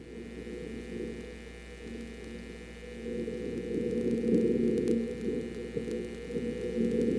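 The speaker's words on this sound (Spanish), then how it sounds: "Este es el viento marciano." A low, rumbling Martian wind noise recorded by a Mars probe, a steady muffled roar that swells gradually, with a faint constant electronic hum.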